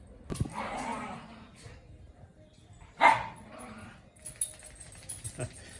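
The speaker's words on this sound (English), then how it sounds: "The dogs are having fun." A dog barks a few times at close range, with yips and brief rustling between the barks.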